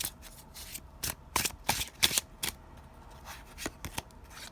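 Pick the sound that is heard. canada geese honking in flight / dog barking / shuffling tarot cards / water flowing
shuffling tarot cards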